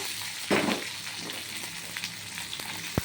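Potatoes and onion fry in a pan with cumin, salt and turmeric, a faint low sizzle broken by a sharp burst of hiss and a few spatter pops and utensil taps.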